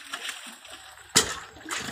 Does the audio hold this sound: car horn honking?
no